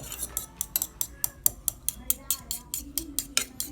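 Eggs being beaten in a bowl with a utensil, producing a steady rhythm of quick, bright clinking taps, roughly three to four per second, close and fairly crisp, with faint talk underneath.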